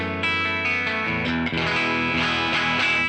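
Electric guitar played with a cleaner tone through a Genome amp simulator, with chords ringing steadily and loudly for about three seconds with no talking.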